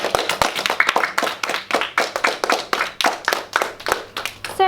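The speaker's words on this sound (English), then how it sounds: "Let's give her a clap" Clapping for a student at a primary school honours programme, a lively group round of claps with quick, uneven rhythm, close and fairly loud, with no talk over it.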